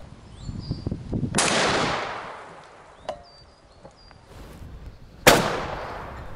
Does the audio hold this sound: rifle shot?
yes